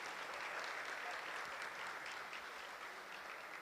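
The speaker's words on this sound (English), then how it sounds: "We can give a big round of applause to welcome him." Steady applause from an audience welcoming a guest speaker at a Sunday gathering, a dense even patter of clapping holding at moderate loudness throughout without a break.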